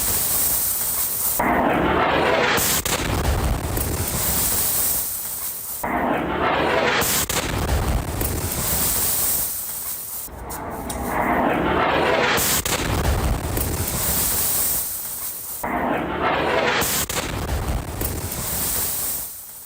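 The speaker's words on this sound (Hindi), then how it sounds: "नीप्रो पर मिसाइल हमले की तस्वीरें आपको दिखाते हैं।" Missile strike explosions in Dnipro: four long, deep rumbling blasts with roaring, surf-like tails, repeating every few seconds, loud and fairly distant-sounding, with no talk.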